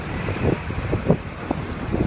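Strong wind roars and buffets the microphone in uneven gusts, a low rumbling rush with occasional louder surges.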